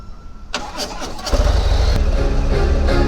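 Harley-Davidson CVO Road Glide bagger motorcycle cranking with a brief starter whir, then catching into a deep, loud, rumbling idle close by, with no talk.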